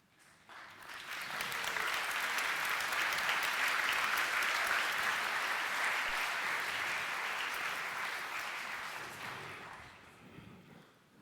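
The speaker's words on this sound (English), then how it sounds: "you got to clap at the old stuff too" Applause from an audience at a product presentation for new Nvidia RTX graphics cards builds quickly, holds as dense clapping for several seconds, then tapers off toward the end.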